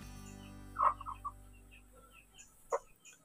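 A sick chicken being treated with amoxicillin gives a few soft clucks, one short burst near the start and another later, faint against a quiet background with no talking.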